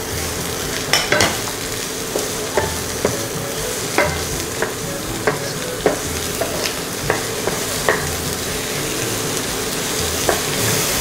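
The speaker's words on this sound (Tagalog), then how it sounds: "Then, gigisahin natin itong ating bawang." Garlic, onion and tomato sauté in a pan for binagoongan, a steady sizzle under repeated sharp scrapes and taps of a spatula stirring at an even rhythm, close up with no talk.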